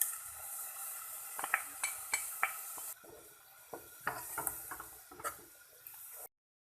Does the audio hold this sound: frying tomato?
yes